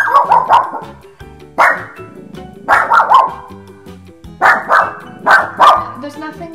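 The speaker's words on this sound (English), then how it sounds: "What are you growling at?" Dog barking loudly and close in repeated clusters of two or three sharp barks, with quieter growling in the pauses between them.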